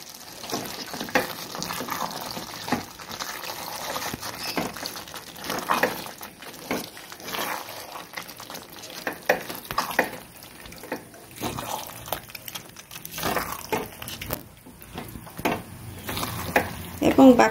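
Marinated mutton stirred and fried with masala in a pan, giving an uneven sizzle with repeated scraping and stirring strokes, moderately close, with a voice talking over parts of it.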